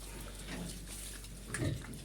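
A few low grunts from a sow just after farrowing, with a louder snort near the end over a steady background hiss.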